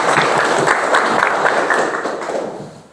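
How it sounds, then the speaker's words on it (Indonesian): A classroom of children applauding together at a lesson, a dense, steady patter of many clapping hands that holds loud and even before fading slightly at the end. "Terima kasih, tepuk tangan untuk semuanya."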